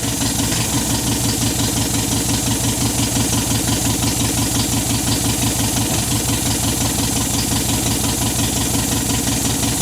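An MGB car engine idles loud and close, with a steady, even mechanical thrum and a faint knock running unbroken throughout.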